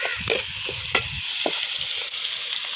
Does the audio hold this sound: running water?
no